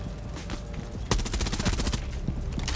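Rapid gunfire in Rainbow Six Siege: a dense burst of repeated loud shots that starts abruptly partway through and continues to the end, close and punchy.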